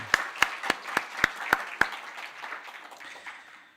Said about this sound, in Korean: 우리 자녀들 축복하는 박수를 한번 해줄까요?